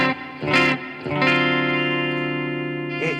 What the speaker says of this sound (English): So this right here is just reverb.